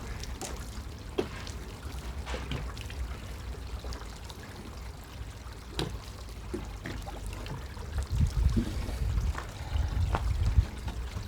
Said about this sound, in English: Just going to wet the towels down now